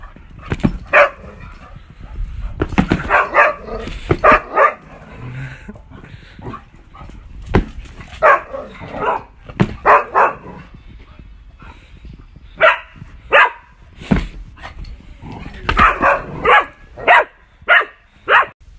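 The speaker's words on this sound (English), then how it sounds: "My crazy ass dog." A pet dog barks in repeated sharp bursts, close and fairly loud, the barks coming in irregular clusters with short pauses and occasional whimpering yips between them.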